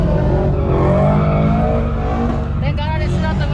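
An open-downpipe BMW drifts, its engine roaring loudly and continuously up close with a rising and falling pitch, and a brief tire squeal near the end.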